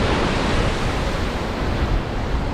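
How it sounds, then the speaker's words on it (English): Ocean waves crash near a seawall on the coast at Guayaguayare, Trinidad, a loud, continuous roar of surf and wind noise with no voices. "if you watch when the waves come in, they actually come in and they crash right there first"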